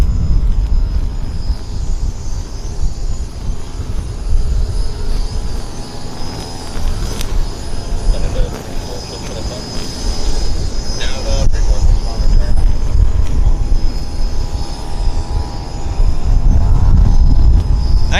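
A Porter Airlines Embraer 195 departing Vancouver Airport produces a deep, rumbling jet roar that swells and falls over a long stretch, with a thin high engine whine above it, heard from some distance.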